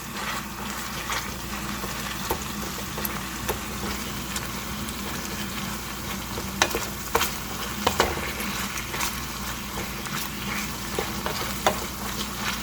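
Tamarind paste being stirred into a meat sauce in a pan, with a steady close sizzle broken by intermittent scraping and knocking of the utensil against the pan.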